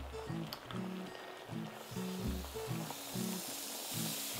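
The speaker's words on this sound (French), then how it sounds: "Voilà, ça commence à grésiller et on va les ajouter." Burger patties sizzling loudly in a very hot frying pan, a dense crackling fry continuing steadily throughout with rhythmic low background tones, no talk.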